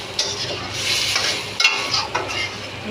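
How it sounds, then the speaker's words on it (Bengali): Potatoes and a fish head are stir-fried in a pan, giving brief scraping stir strokes over a moderate sizzle that lasts about three seconds, with no talking. "আলু আর মাছের মাথাটা ভালোভাবে কষিয়ে নেব।"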